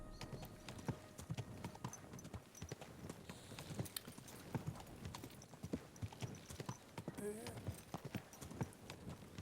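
Rhythmic clip-clop of horse hooves as a rider travels in Kingdom Come Deliverance 2, steady and continuous at moderate volume, with occasional whinny-like cues and someone talking over the hoofbeats.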